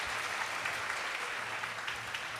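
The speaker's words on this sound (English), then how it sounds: "Give her a huge round of applause, everyone." A gathered audience at a Sunday devotional program applauds to welcome two Vedic scholar speakers; steady, fairly soft clapping continues evenly throughout, heard from a distance.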